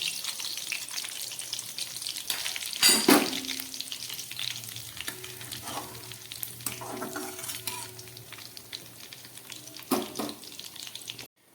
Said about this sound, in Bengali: এবার এই তেলের মধ্যে দিয়ে দিচ্ছি 3-4টে শুকনো লঙ্কা, আর দিয়ে দিচ্ছি এই 5 ফোড়নটা।